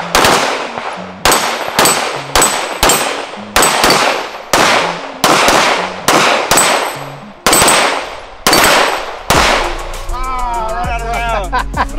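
Pistol shots from a Terran Tactical Sand Viper 2011 with red dot, striking steel targets: about a dozen loud, close reports fired in a quick, slightly uneven rhythm with ringing metallic decay, then a short stretch of voices and background noise.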